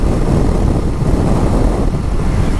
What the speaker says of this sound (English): This wind is so strong, I'm getting blown around all over the place here.